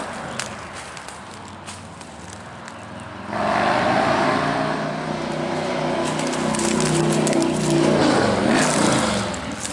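Road traffic passes outside abandoned houses: a vehicle swells in loudly after a quieter stretch and its broad whoosh lingers for several seconds, close by, with no talk.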